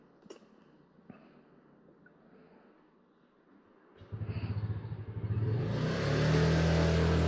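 Car engine idling and then revving after a couple of quiet knocks, the motor swelling loud and steady over the final few seconds on a steep rural road.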